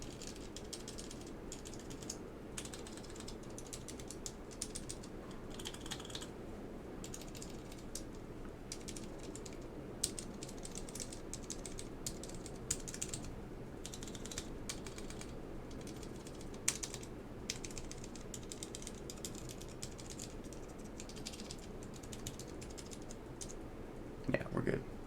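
On a Geon Works F1-8x keyboard with Alps SKCL Green switches, keys are tested with quiet, scattered presses and clicks, heard faintly over a steady room hum and background noise.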